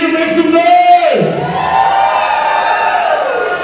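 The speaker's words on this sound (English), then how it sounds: "Those claps are getting weaker and weaker." Crowd at an Ori Tahiti solo dance finals for ages 16 and up, cheering and whooping loudly at close range, with a sustained shout trailing off into a continuous mixed roar of voices.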